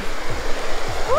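A waterfall on a hike in Zambales rushes steadily as a broad, close wash of water noise, with a brief rising whistle-like tone near the end.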